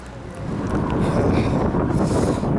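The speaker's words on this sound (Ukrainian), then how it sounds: "Вітер, як завжди, встречний" Constant buffeting wind rumbles against the microphone on a highway, a low, rough roar that never lets up.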